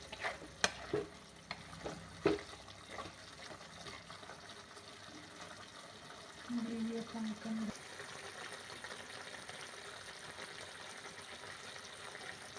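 Ginger pickle with whole red chillies stirred and roasted in a pan: a few sharp utensil clanks early on, then a soft, steady frying hiss with light stirring scrapes, fairly quiet throughout.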